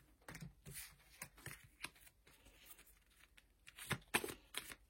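A tarot deck is cut and cards are drawn, giving soft, close papery flicks and riffles in irregular quick bursts against a quiet background, with no speech.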